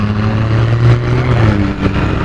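Engine drone of traffic on the road as a small car passes close by, a steady low hum with a slight swell in the middle, no talking.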